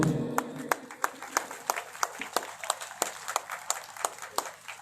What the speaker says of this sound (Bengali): আর একটু জোরে করতালি চাইবো।